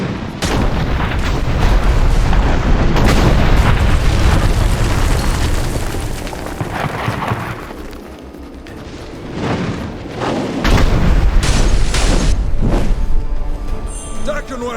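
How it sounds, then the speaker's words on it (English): Heavy cannon blasts in the video game Dungeon Siege 3 boom repeatedly in rapid succession, loud and chaotic, with a brief lull midway before the barrage resumes, voices mixed in. "Cannons again."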